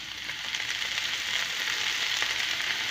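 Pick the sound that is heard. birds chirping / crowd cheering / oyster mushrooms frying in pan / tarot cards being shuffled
oyster mushrooms frying in pan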